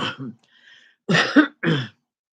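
Someone clears their throat a couple of times, short rough bursts close to the listener, with brief quiet gaps between them.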